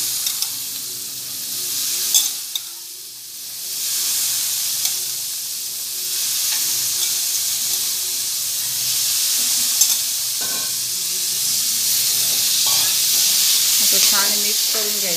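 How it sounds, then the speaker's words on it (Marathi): Pawta beans are stirred into a masala with coriander, giving a steady hissing sizzle close up, with intermittent spoon scrapes and clinks against the pan growing busier toward the end. "छान मिक्स करून घ्यायचं मसाल्यामध्ये पावटा"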